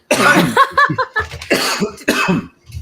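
A person coughs several times in quick succession, close and loud, with short pauses between the bursts.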